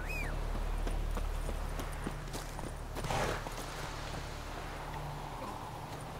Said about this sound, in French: Poney. Où es-tu? Poney?